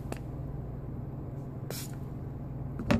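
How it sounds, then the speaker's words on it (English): A handheld spray bottle gives a few short, hissing spritzes, spaced apart and close by, while wetting a watch for installing an Armorsuit full-body protective film, over a low steady room hum. "I'm going to spray the bottom of this."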